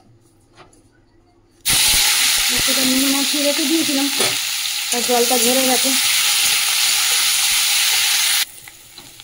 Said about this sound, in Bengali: এই যে উচ্ছে আলু ভাজাটা বসিয়ে দিই